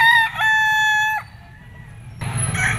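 A rooster gives one clear, ringing crow at a crowded pet market selling chickens, followed by softer clucking and general bustle.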